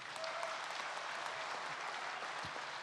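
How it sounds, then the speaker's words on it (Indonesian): Seated audience applauds steadily at a formal inauguration ceremony for a national party board in Indonesia, a dense, even wash of clapping from a large hall crowd, moderately distant and fairly soft throughout. "Yang di kursi boleh kasih tepuk tangan yang terbaik."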